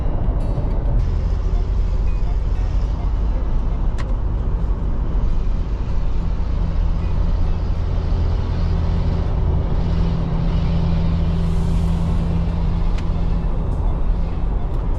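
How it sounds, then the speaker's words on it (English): Steady broadband wind and road rush fills the cabin of a moving 2025 Mitsubishi Montero Sport SUV at about 100 km/h, wind noise from the A-pillars and side mirrors, constant and fairly loud throughout with no pauses. "there is quite audible wind noise coming from the A-pillar, the side mirrors"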